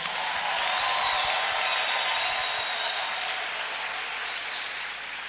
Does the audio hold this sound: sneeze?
no